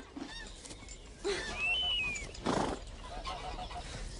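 Geese honk from a flock on a farm, a few brief nasal calls rising around the middle and near the end, moderately loud over a light outdoor background with no talking.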